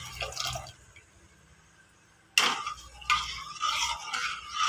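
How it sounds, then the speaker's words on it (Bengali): Milk being poured into a pot of dissolved sugar syrup for semolina payesh, a short liquid splash after a quiet stretch, followed by pouring and bubbling sounds at close range. "এবার আমি যে দুধটা রেখেছিলাম সেই দুধটাকে আমি দিয়ে দিচ্ছি।"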